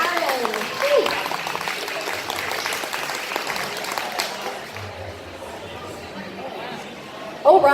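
An audience at a cosplay competition keeps up applause in a steady, fairly loud wash of clapping with some crowd chatter mixed in, fading slightly toward the end.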